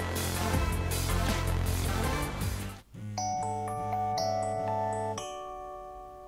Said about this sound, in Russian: Вот такой вот звук издает телефон.